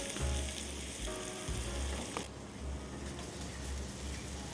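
Savory chaffles cook in a closed waffle machine with a constant dense sizzle and a low appliance hum underneath, steady and close throughout.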